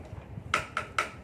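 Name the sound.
wooden frog percussion instrument tapped with a stick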